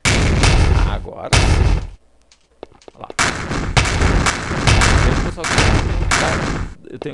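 Dense bursts of loud, close machine-gun fire in a 3D GameStudio game, with sharp cracks and booms, broken by a brief quiet stretch before the shooting resumes heavily.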